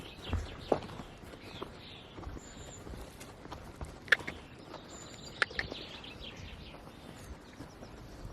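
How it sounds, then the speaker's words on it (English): Hooves of a horse clip-clopping outdoors, a few sharp distinct strikes scattered among soft footsteps and low background noise, with faint birdsong now and then. "Trying to push a horse out of the way."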